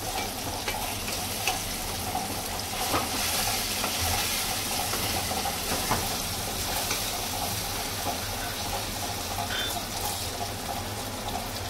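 Chopped onion and tomato cook down in a kadhai for pav bhaji gravy, giving a continuous bubbling sizzle with occasional stirring scrapes, close and steady.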